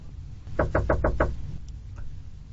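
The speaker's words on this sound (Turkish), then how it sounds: "Çal kapıyı bakalım." Five quick, evenly spaced knocks rap on a room's door, sharp and close, followed by quiet.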